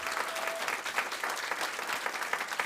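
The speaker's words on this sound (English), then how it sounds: "please give her a big applause once again" Conference audience applauding at a European regional forum session, a dense, continuous wash of many hands clapping at steady loudness throughout, with no distinct voices over it.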